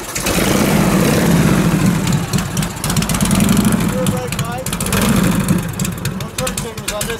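A 1977 Harley-Davidson FLH shovelhead California Custom motorcycle idles low in neutral, a loud, close, uneven rumbling beat that fluctuates slightly throughout.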